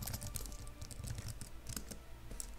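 Close, quiet typing on a computer keyboard in an irregular run of soft clicking keystrokes, with no talking.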